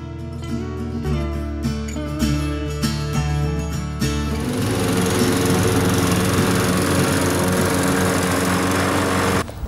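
A Hayter Osprey 46 lawn mower: after a few seconds of music, the engine takes over with a loud, steady, close drone that holds to the end.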